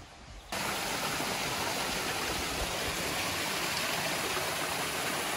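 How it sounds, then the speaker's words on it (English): Steady, dense roar of rushing water from a nearby waterfall near Sydney, starting abruptly and continuing unbroken. "What do you know? Found another waterfall."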